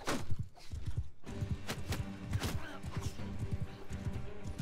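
Horse hooves clip-clopping in a fast galloping rhythm in the video game Mount & Blade 2, with a whinny near the start, a crash of combat and a voice talking faintly underneath.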